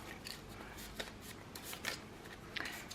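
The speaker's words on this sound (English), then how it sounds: "we'll give them a quick little shuffle" A quiet, steady riffle of cards being shuffled, with soft papery flutters and a few crisp snaps over a few seconds.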